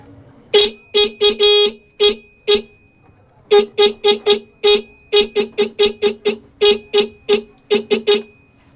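A motorcycle horn honks in repeated short bursts, some quick and clustered, some slightly longer, loud and close with brief pauses between groups.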